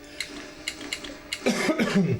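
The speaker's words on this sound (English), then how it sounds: "There will be quite a bit of coughing, I would imagine." Several short, dry coughs come in a quick irregular burst, followed by a rougher throat-clearing cough nearby.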